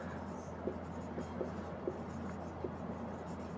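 A teacher writes on a board during a general science class, with soft, scratchy strokes and light taps at an irregular pace over a low, steady room hum.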